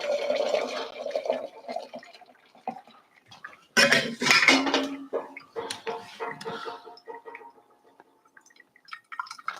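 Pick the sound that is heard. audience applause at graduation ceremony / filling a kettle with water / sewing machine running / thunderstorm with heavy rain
filling a kettle with water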